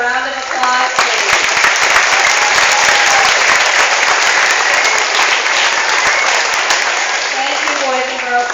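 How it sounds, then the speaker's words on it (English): A school assembly crowd claps steadily in a sustained round of applause, with a voice speaking over the start and end. "Could you give them a round of applause, please?"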